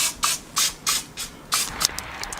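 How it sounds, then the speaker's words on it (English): Cooking spray hisses over the tops of potato patties for breakfast bombs in several short bursts, about five sharp sprays in quick succession and then a few shorter spurts, close and without talk. "Take your cooking spray, just spray the top."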